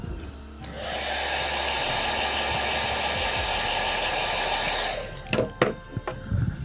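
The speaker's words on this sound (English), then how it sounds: "I'm going to put this on the dryer." A hair dryer blows hot air to dry paint, giving a steady, loud whooshing roar for about four seconds before cutting off, followed by a few soft clicks and handling noises.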